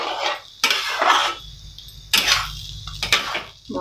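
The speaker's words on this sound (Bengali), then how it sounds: "মাখাতে হবে আস্তে আস্তে।" A spoon scrapes and clatters against a pan while butter paneer masala is stirred and mixed over lowered gas heat, coming in several loud, close bursts of metallic scraping with short pauses between them.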